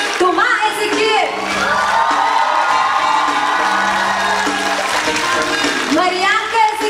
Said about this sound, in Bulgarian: Вашите бурни аплодисменти за ръководителите на Bungie Singers.